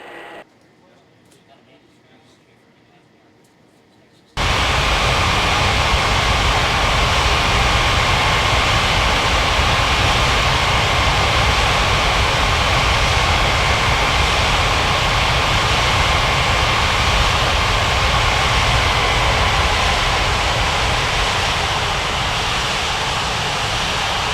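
Aircraft engines roar steadily at an airport in an air traffic control game, a loud broadband rumble that begins suddenly after a few quiet seconds and continues unbroken.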